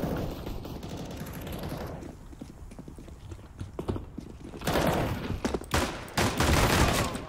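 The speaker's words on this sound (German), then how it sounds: "Versuchen wir es mal mit der Dual-Baretta." Dual Beretta pistols firing in the video game CS:GO, rapid bursts of gunshots that grow louder and denser toward the end, with clattering mechanical sounds and game noise underneath.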